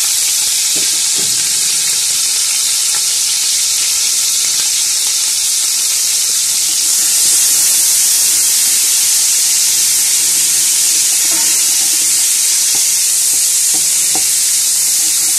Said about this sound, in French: Après que vos condiments aient frit